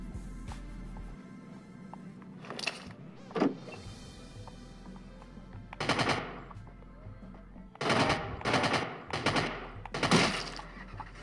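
Gunfire in the video game Rules of Survival, several loud bursts of rapid shots in clusters, separated by quieter stretches of low game ambience.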